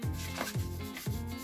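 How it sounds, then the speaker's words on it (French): Cloth rubbing hair dye into a man's head at home makes three rhythmic scrubbing strokes, soft and close, with no talk. "Avant de rincer, on frotte d'abord."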